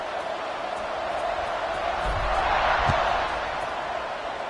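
Stadium crowd at a college football game involving UNC, a steady broad roar of many voices during a kickoff, swelling slightly in the middle with faint thuds, with talk over it.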